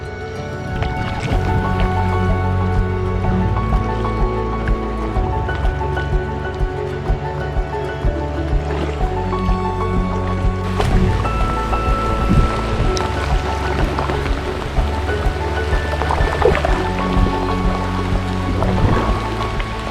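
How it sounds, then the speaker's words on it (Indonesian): Rain falls steadily on a river on Kalimantan, a dense hiss over the water with paddle splashes and knocks from a boat, and a low steady hum underneath throughout. "masih hujan rintik-rintik, nggak jelas. Ini makin menderas"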